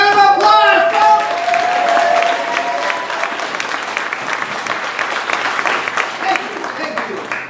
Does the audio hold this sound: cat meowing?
no